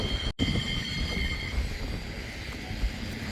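Great Orme tram in Llandudno climbing toward the summit, a steady rumbling rattle of the car on its track with faint squealing tones, close and continuous.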